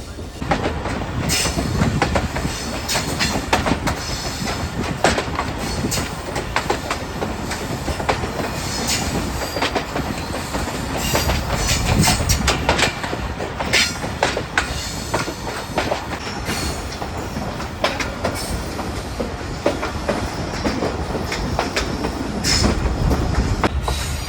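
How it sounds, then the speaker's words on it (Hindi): Passenger express train, the New Khushal Khan Khattak Express between Karachi and Sehwan, rolling steadily at restricted speed, with continuous rumble, rhythmic wheel clatter over rail joints and occasional high squealing of wheels, heard close from on board. "वही ट्रेन हमारी कोटी से निकलने के बाद इसी रफ्तार में आगे बढ़े जा रही है"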